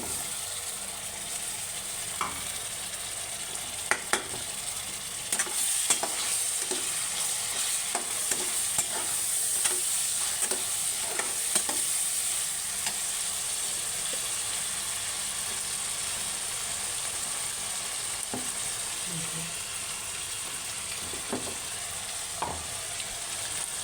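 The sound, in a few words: spices with ginger-garlic paste and cumin frying in pan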